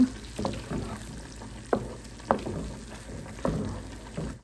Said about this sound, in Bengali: ঘিয়ের সাথে এখন আমি ডালটা ভালোভাবে ভেজে নিব।